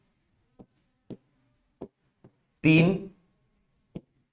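Numbers being written on a board during a maths class: a handful of short, scratchy strokes spaced irregularly, with a brief spoken word between them.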